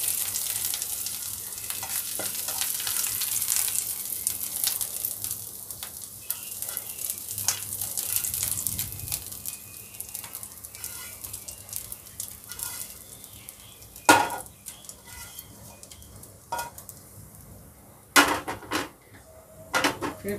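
Pieces of arbi (taro root) fry in hot oil, a dense bubbling sizzle that is loud early and gradually thins, with sharp clanks of a spoon against the pan near the end, close up and without speech.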